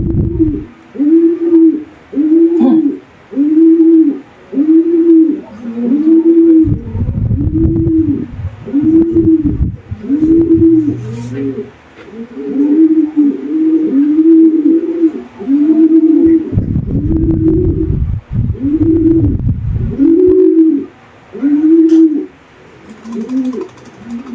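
Racing pigeons in a one-loft race setup coo in a steady, repeated rhythm, loud and close, with soft rolling calls overlapping one another throughout.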